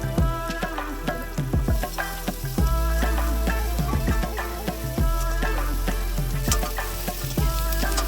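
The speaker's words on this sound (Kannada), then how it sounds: "ಎಣ್ಣೆ ಬಿಸಿ ಆದ ನಂತರ ಈರುಳ್ಳಿ ಹಾಕೊಂಡು ಕೆಂಬಣ್ಣ ಬರೋ ಥರ ಫ್ರೈ ಮಾಡ್ಕೊಳ್ಳೋಣ." Onions sizzle and crackle in hot oil in a pan while cooking for an egg masala, with steady frying hiss and repeated stirring clinks and scrapes throughout, loud and close.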